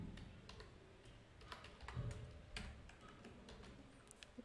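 Faint clicking keystrokes on a computer keyboard while writing HTML code, irregular taps at a quiet level with no talking.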